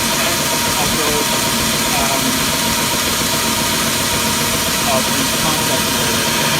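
A G131 corner grinding machine runs steadily, giving a loud, continuous mechanical drone with a constant hum and broadband whir that holds unchanged from start to finish.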